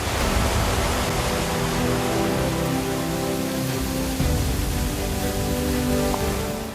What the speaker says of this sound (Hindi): जल की सैकड़ों धाराएं एक विशाल अजगर की तरह लहराते हुए नीचे गिर रही थीं।